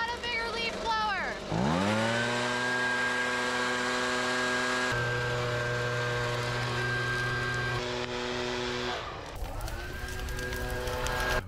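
A large leaf blower spins up from a brief sputter into a loud, steady whine with a strong droning hum, runs close by at constant pitch, then winds down near the end before revving again.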